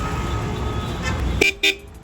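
A newly fitted horn on a Royal Enfield Bullet motorcycle gives two short, close toots in quick succession, the second a little longer, after a steady idling engine.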